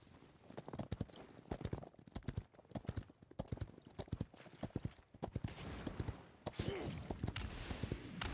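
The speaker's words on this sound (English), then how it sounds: "I'm on a horsey." Hooves clip-clop rapidly and steadily as a horse is ridden in a video game, close and rhythmic, with game effects swelling near the end.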